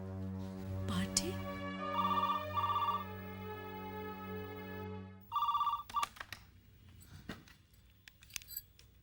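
A landline telephone in a home rings in repeated bright electronic trills, two bursts then a third after a pause, followed by quiet talk and light clinks.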